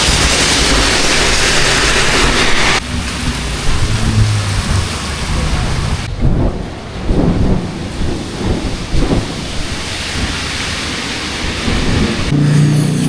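Heavy rain pours steadily during a mountain hike on Mount Lawu via the Jogorogo route, a loud dense hiss with deep rumbling underneath throughout.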